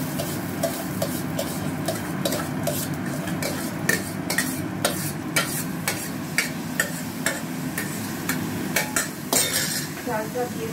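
Gobindobhog rice and dal stirred and fried in a pot, with steady sizzling under repeated metal clinks and scrapes of a spoon against the pot, close and fairly continuous.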